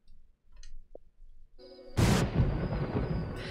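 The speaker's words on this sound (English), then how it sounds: "As I accidentally throw lightning." A lightning spell cast in the video game Fable Anniversary, a sudden loud crackling burst that follows a few quiet ticks and tones and then rumbles on for over a second.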